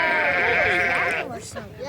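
Sheep at a living history farm in Howell, New Jersey, letting out a loud, close, wavering bleat that fades into a quieter second bleat.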